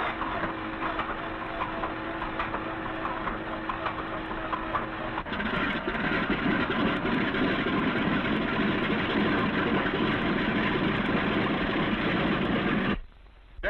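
A B-17 Flying Fortress engine cranks and fires, and a rough mechanical clatter swells into a louder, sustained broadband roar as it settles toward idle, then cuts off abruptly.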